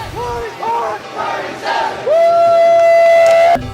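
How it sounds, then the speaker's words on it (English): A crowd at a robotics competition chants and screams, with loud, surging voices rising in waves and then holding one long, strained shout before it cuts off abruptly. "Whenever your robot's in the field, you do different chants, you scream your head off."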